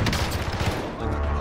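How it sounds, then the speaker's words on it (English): Rapid, loud LMG gunfire in a video game rattles in dense continuous bursts that fill the whole moment, with a faint voice underneath. "he shot me directly in the head with the LMG"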